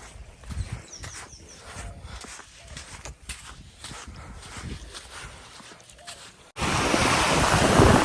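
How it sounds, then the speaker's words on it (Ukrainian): Large Atlantic Ocean waves wash onto a white-sand beach in Cuba amid gusty wind, growing into a loud, close roar of breaking surf toward the end. "Вони такі хвилі великі. Ось такий океан."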